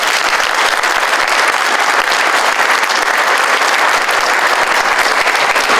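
An audience at a graduation ceremony for an online academy applauds, a dense, sustained wash of clapping that stays loud and even for about six seconds.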